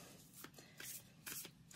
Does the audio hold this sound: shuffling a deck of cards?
yes